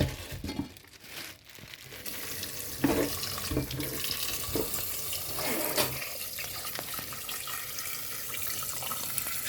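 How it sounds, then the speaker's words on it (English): Tap water running into a kitchen sink as corn pork is washed, a steady close gush with crinkling and handling sounds at the start and no talking. "we're going to go to washing off our corn pork."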